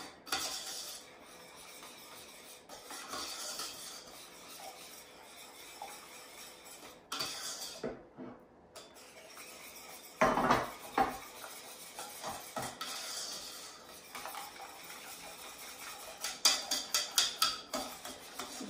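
Gelatin and coconut milk mixture stirred in a pan with steady, continuous scraping and swishing, a brief pause midway, then a run of quicker, louder knocks and scrapes toward the end, close and without talk.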